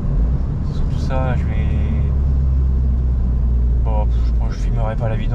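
Car on a short test drive near the Eiffel Tower, Paris, with a steady low engine rumble and road noise throughout and brief bursts of talk from people in or near the car.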